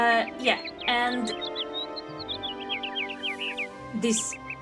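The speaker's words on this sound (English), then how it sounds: "this bird is very loud" A bird calls in the video game Syberia, a string of loud, rising chirps and whistles repeating over a steady ambient tone while someone talks over the top.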